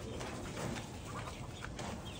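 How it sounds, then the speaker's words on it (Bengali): Farm chickens and ducks kept in a small hobby poultry yard, with soft clucks and coo-like calls scattered over a steady, noisy outdoor background, fairly faint and without speech. "এগুলো সব মুরগি।"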